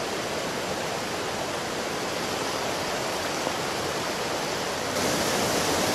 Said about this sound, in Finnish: saan tuon taustalla pauhaavan kosken äänen teknisesti vaimennettua